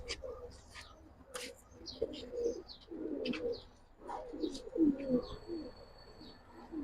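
Silver Pankhi and Cobra pigeons coo in low, overlapping murmurs that roll on steadily at close range, with a few higher chirps over a faint background hum.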